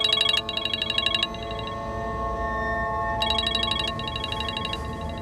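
A telephone rings in two bursts of electronic trilling, one at the start and another after a pause, steady and moderately loud over a low hum.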